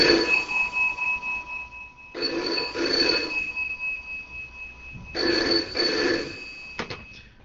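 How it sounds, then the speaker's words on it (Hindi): A telephone rings for an outgoing call, two clear double-trill bursts of a bell-like ring separated by pauses, fairly close and alone with no talking. "तो आइए फोन लगाते हैं किशोर दा को।"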